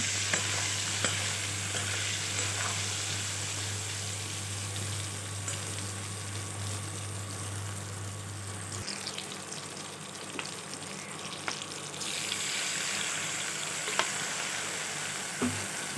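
Mango pieces stir-fried with salt and turmeric sizzle steadily in a pan for a long stretch, with faint stirring scrapes and a low hum that cuts out halfway. The sound is close, moderately loud and has no talking.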